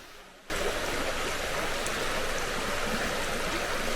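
A river flows through woodland near an abandoned quarry, heard as a steady, full rushing hiss that starts abruptly and continues loud and unbroken, with no talk over it.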